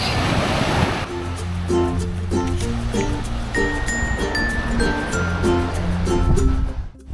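Ocean surf washes onto a beach in St Lucia in a steady, continuous roar, with a faint clink and some rustling mixed in and no one talking.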